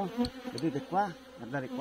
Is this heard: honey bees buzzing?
yes